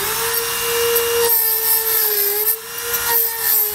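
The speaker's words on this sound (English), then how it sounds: "I'm just going to speed things up a little bit and use a Dremel tool to cut that off out of the way" A Dremel rotary tool cuts off a part while a Curt trailer hitch receiver is fitted to a 2020 Chrysler Voyager, giving a steady, close, high-pitched whine with gritty cutting noise and no talk.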